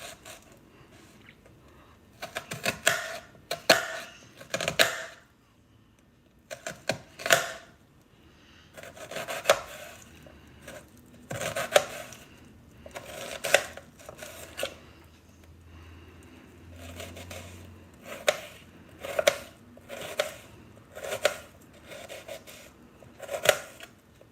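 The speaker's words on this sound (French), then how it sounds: "je vais couper mes oignons finement." A knife finely chops onions on a board in irregular bursts of quick, close taps, with short pauses between groups of cuts.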